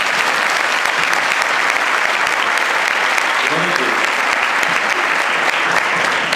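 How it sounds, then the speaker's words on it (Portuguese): An audience at a church gathering breaks into steady, loud applause, a dense wash of clapping that carries on evenly for the whole stretch, with a brief murmur of voices partway through. "Merece um aplauso"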